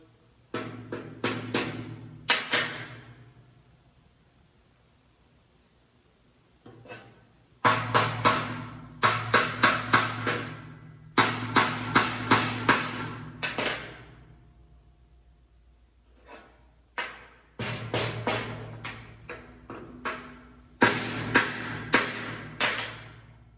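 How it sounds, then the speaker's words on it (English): A wooden wedge is hammered into the head of a cobbler's hammer handle: several bursts of sharp, ringing strikes in quick runs, loud and close, separated by short quiet pauses, with no talking. "I'll smack this like that, and then I'll go ahead and get the wooden wedge in there. It's gonna be kind of noisy."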